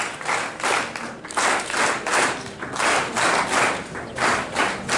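Audience at a university open day claps together in steady, fairly loud bursts that swell and ease over a few seconds, with faint thuds mixed in.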